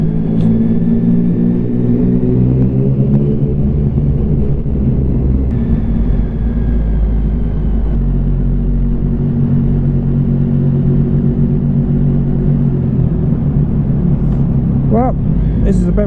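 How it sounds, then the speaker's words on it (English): Motorcycle riding through Rotherhithe Tunnel in London, a steady loud engine drone and road rumble echoing in the enclosed tube with shifting engine tones throughout, and a faint high whine near the end. "Back into Rotherhithe Tunnel."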